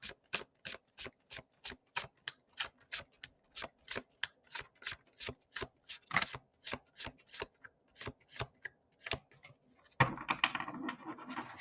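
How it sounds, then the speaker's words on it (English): A large tarot deck being shuffled by hand in a long series of quick, crisp riffles at a steady rhythm, close and clear, ending in a rougher flurry of card noise. "let me go back and shuffle again"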